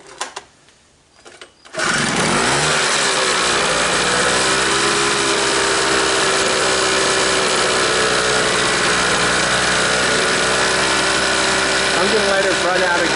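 A 2-stroke 900W generator engine is pulled into life after a few quiet seconds and then runs loud and steady close by with a buzzing, high-revving whine that holds constant to the end.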